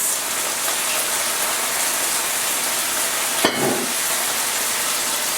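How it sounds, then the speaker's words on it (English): Loud, steady sizzling as vinegar hits a hot pan of leeks, with a brief sharp clink and a quick hiss burst partway through. "And let it sizzle for a minute."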